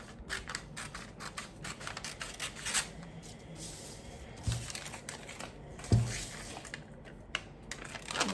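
Scissors cut through fabric for an off-the-shoulder blouse: close, intermittent snips and rustles, with a few sharper clicks and taps.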